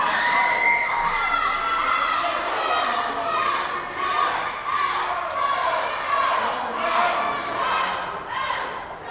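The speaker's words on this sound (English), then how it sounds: "This crowd telling Stevie Shields not to take the chance." A wrestling crowd shouts and cheers continuously, a dense roar of many voices with children's shrieks rising and falling across the clip at steady high volume.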